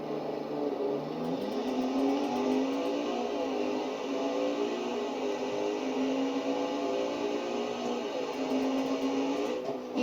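A police car's engine in BeamNG Drive drones as a steady whining hum that climbs slightly in pitch, loud and continuous throughout.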